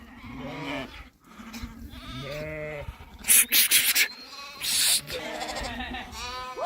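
Several sheep and lambs bleat repeatedly, some calls high and others lower, overlapping close by with rustling movement in between.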